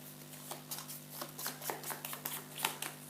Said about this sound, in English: shuffle them together, place them on top of the event deck